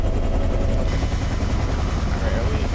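Continuous thudding rotor drone of a Bell UH-1 Huey helicopter in a flight simulator, with a low engine rumble, steady and close, while a person talks over it.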